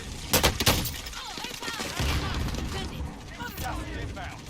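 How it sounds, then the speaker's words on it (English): A grenade goes off in Call of Duty Warzone with a sharp, loud burst of blasts early on, followed by rumbling debris and gunfire-like noise while players talk over it. "That grenade's gonna get me, really?"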